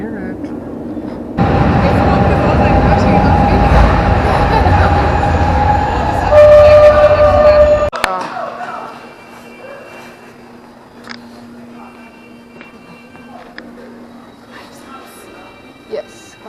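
A metro train in Milan rumbles loudly at close range, with a sustained roar and high squeals, then drops to a quieter hum and scattered clatter as it slows, with voices talking over parts of it.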